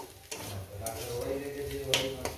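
Mashed flat beans frying with rohu fish belly in a pan, a close, continuous sizzle broken by a few sharp spatula taps and scrapes, no voices.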